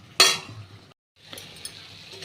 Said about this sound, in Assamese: पानी শুকাই একেবাৰে তেল এৰি দিব তেতিয়ালৈকে মই ভাজিম এনেকৈ